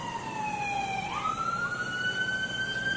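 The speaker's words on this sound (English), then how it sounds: "Impending dangerous spaceflight operations. 10 minutes from this siren." A warning siren at the Starship launch site in Boca Chica, Texas, sounds a steady electronic tone that drops and then glides up to a higher pitch. It is loud and continuous over a constant background hiss, with no talk.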